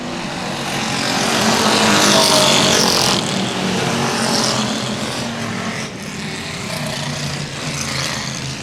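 Stock cars racing at Central Texas Speedway, a loud pack of engines roaring past that swells to a peak and then recedes, then a quieter steady drone as the field moves on.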